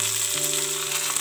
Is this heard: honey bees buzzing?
no